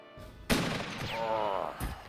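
KSVK rifle fire in the video game Jagged Alliance 2, with two sharp shots about a second apart followed by a short ringing tail.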